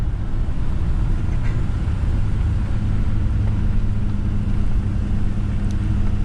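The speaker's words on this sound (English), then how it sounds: "Now we got the dirt hill road climb." A 2021 Ford F450 truck climbs a loose-gravel dirt hill road in 4-wheel drive, its engine giving a loud, steady low rumble that holds without a break throughout.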